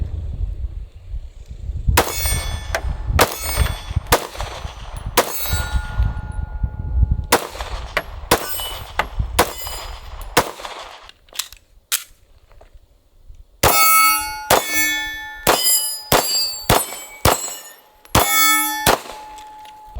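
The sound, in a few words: shooting S&W M&P 9mm Shield EZ pistol at steel targets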